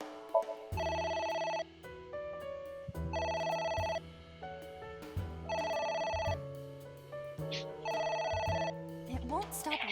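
An in-game telephone in the video game AI: The Somnium Files rings in four repeated electronic bursts with short gaps between them, loud and close, while players talk over it.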